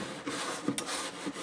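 Sandpaper rubbed over wood to take off burrs during work on a Lyon and Healy Terz guitar, heard as quiet, soft rasping strokes, close and alone.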